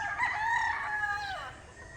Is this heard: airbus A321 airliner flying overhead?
no